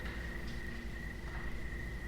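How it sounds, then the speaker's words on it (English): A cricket chirrs in a quiet indoor room, a steady, thin, high trill that continues unbroken at moderate volume with no talk over it. "and the cricket chirrs."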